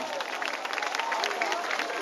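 A large gospel concert audience in Ibadan claps and cheers for a couple, a dense, steady wash of applause mixed with crowd voices.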